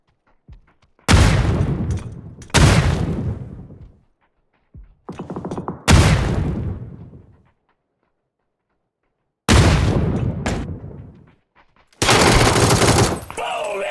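Gunfire from the PC battle royale game PUBG: several sharp, loud bursts of shots, some in quick clusters, separated by short silences and echoing tails.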